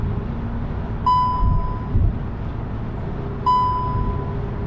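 A Volkswagen MK7 GTI dashboard warning chime sounds twice, a clear electronic tone a few seconds apart, close and distinct over a low interior hum.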